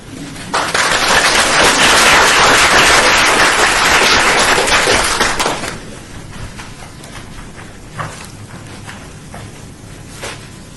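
A room at an Arts Commission meeting bursts into loud, dense applause for about five seconds, then it thins into scattered claps and faint room noise.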